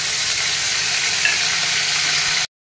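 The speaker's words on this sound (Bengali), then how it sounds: "এই তেলেই আমি আদা রসুনের পেস্টটা দিয়ে দেব।" Ginger garlic paste sizzles in hot frying oil left over from frying chicken, a steady loud hiss running unbroken for over two seconds before cutting off abruptly.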